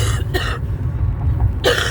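A person with a lingering, phlegmy cough gives a few harsh, close coughs: two quick bursts at the start, a pause, then another at the end.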